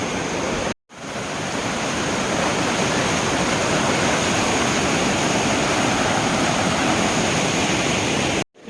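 Water flows over rocks at Puthikunta waterfall, a loud, steady broadband rush heard close and alone, broken by a short dropout near the start.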